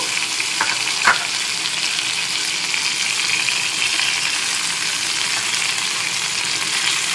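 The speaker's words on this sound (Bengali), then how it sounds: "এখন এই তেলেই আমি ফোড়নটা তুলে দেব" Whole spices for tempering fry in hot oil left from frying prawns, a loud, even sizzle running throughout with a brief clink of a utensil near the start.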